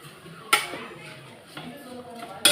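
A spoon stirring and mixing rice, toor dal and tamarind water in a cooking pot, giving a few sharp metallic clinks against the pot rim with quiet scraping between.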